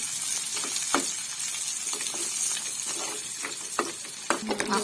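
Onion and green chillies fry in a pan with a close, continuous sizzle, while repeated spoon scrapes and taps stir them through.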